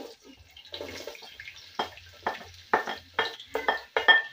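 Sliced onion drops into hot cooking oil for Kenyan beef pilau, giving soft, close sizzling and stirring scrapes that come in short, uneven bursts with quiet gaps between.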